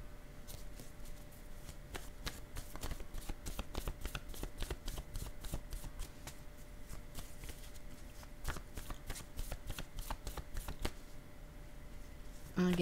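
A deck of tarot cards being shuffled: steady, close riffling and sliding that runs continuously over a faint constant hum.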